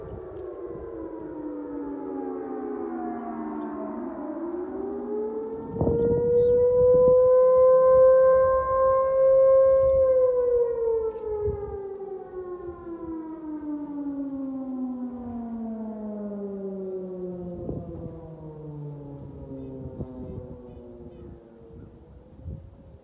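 A civil defense siren in Stone County wails in the distance, one long rising then slowly falling tone that swells and fades, heard across open air with wind noise and no talking.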